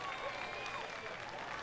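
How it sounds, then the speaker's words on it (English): A baseball crowd gives an ovation for a pitcher's single-season strikeout record, a steady wash of applause and cheering heard from a distance, faint and continuous, with some people standing. "And a nice ovation from the crowd as well"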